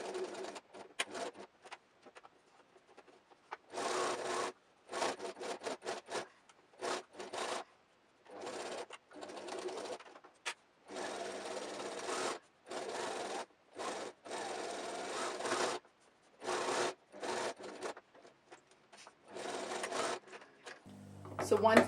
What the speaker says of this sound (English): So I'm gonna start stitching from here.